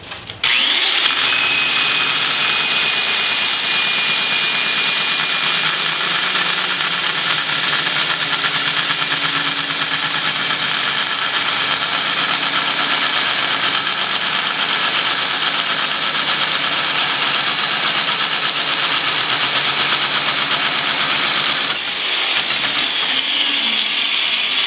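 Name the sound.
Sink Notcher 180 tube notcher cutting tubing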